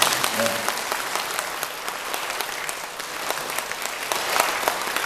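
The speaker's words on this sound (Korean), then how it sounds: "요쯤에서 이제 박수 한번 치고 넘어갑니다." Church congregation applauding during a Lenten lecture by a Catholic priest, a dense, steady patter of many hands clapping at moderate distance for several seconds with no talk over it.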